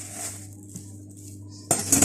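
Metal satay skewers clink together at close range, first a faint tap, then a brighter burst of jangling metal contacts at the end, with a low steady hum underneath.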